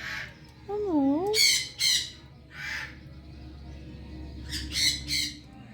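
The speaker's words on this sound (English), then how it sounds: "Sulfur crested cockatoo." A sulphur-crested cockatoo in a large bird store lets out several harsh, loud squawks in short bursts, with a wavering whistled call early on and a pause midway, close to the listener.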